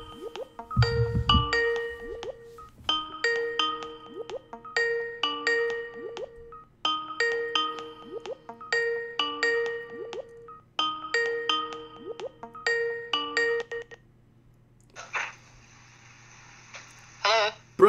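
A phone call rings out while waiting for an answer, a repeating ringback tone in regular patterned bursts, clear and steady, ending with a brief different tone.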